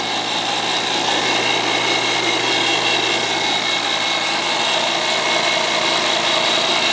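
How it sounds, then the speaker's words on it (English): Close, loud commercial HVAC vacuum pump motor running at a constant pitch, a dense buzzing whine with airy hiss, steady throughout. "I think this is more of a commercial pump,"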